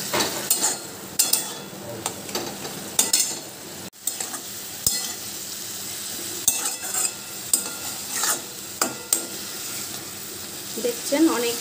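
Egg korma with papaya, chili powder and turmeric sautés in a wet pan, with moderate sizzling under repeated stirring and scraping strokes that come in uneven bursts.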